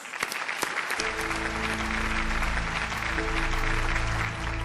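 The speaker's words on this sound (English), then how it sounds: "Please give them a huge round of applause" Steady audience applause fills an awards ceremony hall, dense clapping continuing throughout as sustained music tones swell in beneath it after the first second.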